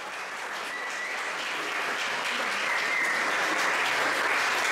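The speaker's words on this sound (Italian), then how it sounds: "vi meritate questo ultimo applauso" A theatre audience gives a final round of applause to a youth group at Teatro San Giorgio in Udine, a dense, even clapping that swells slightly louder toward the end.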